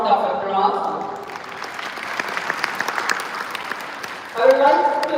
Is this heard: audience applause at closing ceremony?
yes